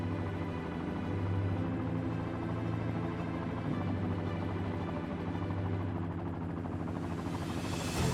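A tour helicopter lifts off over Dubai, its steady rotor and turbine drone filling the cabin with a loud, continuous low hum that holds evenly throughout.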